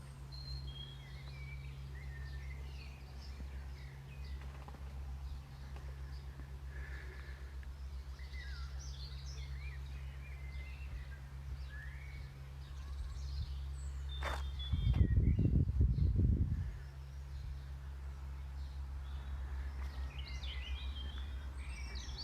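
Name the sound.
many birds calling in a garden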